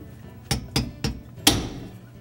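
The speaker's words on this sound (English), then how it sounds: "you're going to have to use a hammer and a chisel and just cut it straight down" Four sharp metallic strikes of a hammer driving a chisel to cut out a Whirlpool dishwasher pump part, evenly spaced at first then a louder final blow, with quiet between hits.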